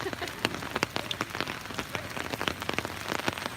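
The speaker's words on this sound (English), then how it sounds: "the rain didn't stop." Steady rain falls on streets and surfaces during a walk through the city of Cologne, a dense patter of drops hitting nearby with no talking.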